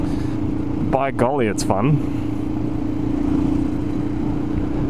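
A 1999 KTM supermoto motorcycle idling with a steady, rattly engine rumble that runs loud and close the whole time, while someone speaks briefly over it.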